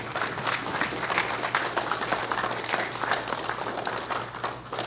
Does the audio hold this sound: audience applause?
yes